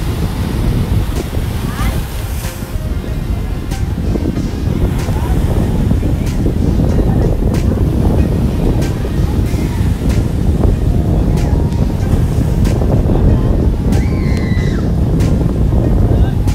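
Waves and strong wind on the open sea around a Vietnamese round basket boat, a steady loud roar of surf and wind buffeting the microphone throughout, with faint voices mixed in.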